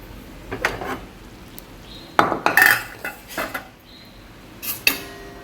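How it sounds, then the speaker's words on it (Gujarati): A ladle scrapes and clinks against a pot and steel bowl while hot mixed dal is served: several sharp metallic taps and knocks, scattered and close, with quiet pauses between. "દાળ આપણે બાઉલમાં કાઢી લીધી છે."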